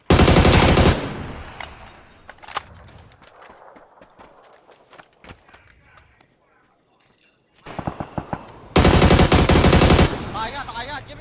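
Video game gunfire comes in loud sustained automatic bursts at the start and end, with sparse single shots and footsteps in the quieter middle, while players talk.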